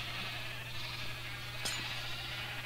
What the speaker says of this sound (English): Let's pop a bunch of normal sheep into there.